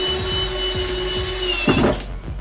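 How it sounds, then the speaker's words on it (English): Power drill driving screws to fix desk legs to a shelf, a steady close motor whine with short bursts of grinding as the screw bites, loud and continuous. "I went ahead and drilled my screws in to attach the top legs to the shelf."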